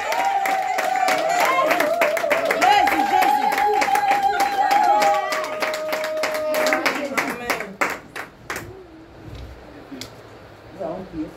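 A congregation at a church worship service claps in quick, steady rhythm over a sustained sung or played tone. The clapping then thins into scattered claps that fade toward the end.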